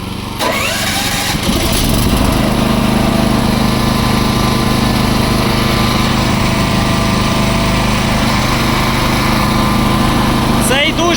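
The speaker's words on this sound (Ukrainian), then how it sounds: "як працює великий генератор на газу" A large 7 kW Champion gas-powered generator starts up and runs continuously with a loud, steady, rough drone close by, ending with a brief clatter.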